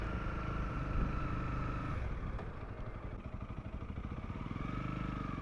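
A Honda CRF 300 Rally motorcycle ridden through the modern part of Pniel: a steady engine drone and road rumble, fairly constant in level, with a faint rhythmic throb toward the end and no speech.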